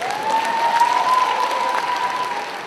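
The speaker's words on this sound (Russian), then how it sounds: "Аплодисменты, пока я выхожу." Steady audience applause at a concert event as a performer walks on stage, a dense even wash of clapping with a faint sustained tone running underneath, holding for the whole stretch.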